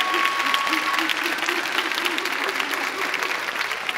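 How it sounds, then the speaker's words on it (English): An audience at a high school choir pop show gives sustained applause for the pop show band, dense steady clapping filling the room throughout. "can we give a huge round of applause to our pop show band behind all these students?"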